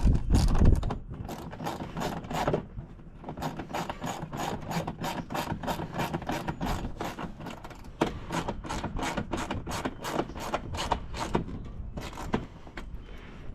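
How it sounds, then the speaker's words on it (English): A hand ratchet tightens the headlight bolts on a 2007-2014 Cadillac Escalade, making a long run of rapid, evenly spaced clicking strokes, close and clear, with no talk. "So now all we gotta do is tighten these up."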